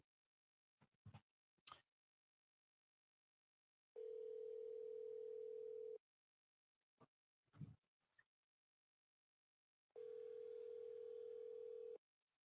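Telephone ringback tone on an outgoing call, two long steady tones about two seconds each with a gap of several seconds between, clear and alone apart from a few faint clicks and brief rustles.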